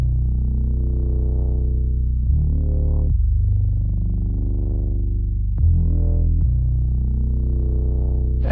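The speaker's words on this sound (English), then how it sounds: "we also have some automation happening with this synth bass from a plugin called Massive from Native Instruments" A deep synth bass from the Native Instruments Massive plugin holds sustained notes while an automated filter cutoff repeatedly sweeps open and closed, producing slow wah-like swells that change with each note, heard alone.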